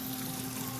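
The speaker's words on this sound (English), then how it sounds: "we got boiling water here" Water boiling in a pot for blanching foraged fiddleheads, a brief steady rushing bubble and hiss, close and fairly quiet with no talk.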